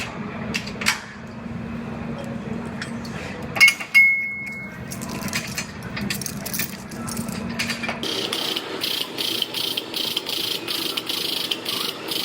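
A Jeep frame is pulled square on a frame bench, giving steady mechanical grinding and ratcheting strain with a few sharp metallic clanks near the middle and a brighter rattling texture in the later part.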